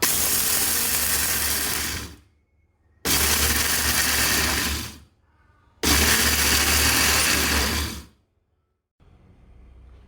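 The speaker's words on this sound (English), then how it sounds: "Now I'll just use the dry grinder and get my soya beans powder." A dry grinder whirs loudly as it grinds roasted soya beans into powder, in three bursts of about two to three seconds each, each ending abruptly, with quiet gaps between.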